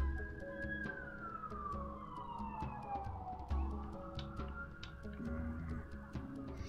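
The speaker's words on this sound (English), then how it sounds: "That's an ambulance." An ambulance siren passes outside a window at night, its wailing tone sweeping down and up as it goes by at a moderate distance over a low background hum.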